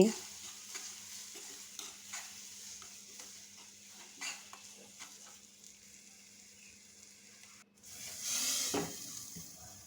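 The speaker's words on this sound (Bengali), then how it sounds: "পাঁচফোড়ন দিয়ে ভালো করে বেজে নিচ্ছি" Ground panch phoron (five-spice) frying in oil for a pointed gourd bharta, a soft, quiet sizzle with light stirring scrapes, swelling into a louder hissing burst near the end.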